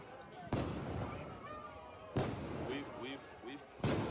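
Three loud, sharp explosions go off during a street protest about a second and a half apart, each a sudden crack that dies away over a crowd noise and scattered voices.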